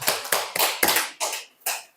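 Members of a church congregation clap during a Sunday service, six or so loud, close, irregular bursts of hand claps in under two seconds.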